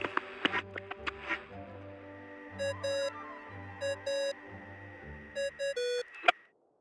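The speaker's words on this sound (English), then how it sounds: "What's that ringing? Is it the wind or something?" A bright electronic ringing plays in a scene of the video game Genshin Impact, repeating in short pulsed bursts over a low ambient hum before cutting off abruptly.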